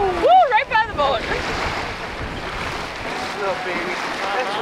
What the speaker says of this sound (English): Waves that we're hitting and getting splashed with.